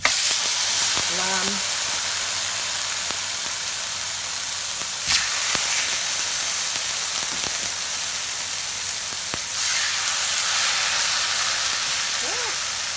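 Lamb steaks sear in a hot oiled pan with a steady, close sizzle and hiss that runs throughout, with a few clicks and pan knocks over it.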